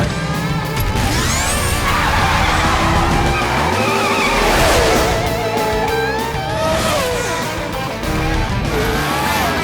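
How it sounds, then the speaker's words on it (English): A cartoon race car speeds and skids, with loud tire squeals and sweeping engine whines that rise and fall, plus a crash-like clatter, all dense and continuous with no talk. "Now let's find out just how fast this race car can go."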